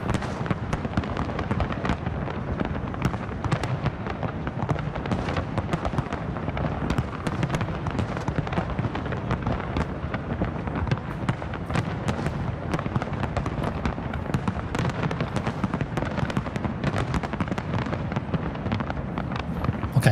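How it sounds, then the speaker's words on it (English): New Year's Eve fireworks bursting over a harbour, a dense, continuous barrage of loud overlapping bangs and crackles with no pauses. "Love watching fireworks, Davo, on DLive?"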